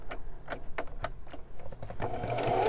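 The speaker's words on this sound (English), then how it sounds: "so coming to the end and then back stitch" A sewing machine stitches a jeans hem in short, quiet bursts of rapid ticking, stopping and starting before a steadier run at the end.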